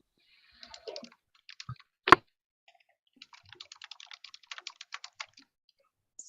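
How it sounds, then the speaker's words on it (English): Typing on a computer keyboard picked up during a remote court hearing: sparse clicks, then a fast run of light keystrokes, near and quiet against silence, with one louder knock. "Somebody's typing"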